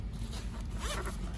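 A zipper on a fabric packing cube is pulled along its track in a quick rasping zip, close up and alone.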